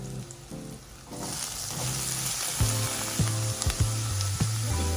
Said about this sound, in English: Let this saute for about a minute on low heat.